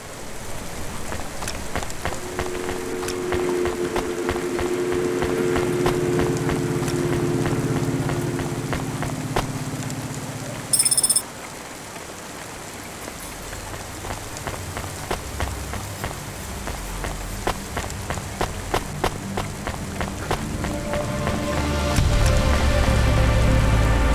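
Steady rain in the video game Cloudpunk patters continuously on a surface, with scattered drips and a low hum underneath and a brief sharp blip partway through.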